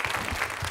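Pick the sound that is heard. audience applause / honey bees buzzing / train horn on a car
audience applause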